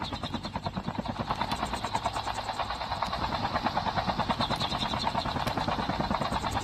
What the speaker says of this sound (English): Get out of the chopper.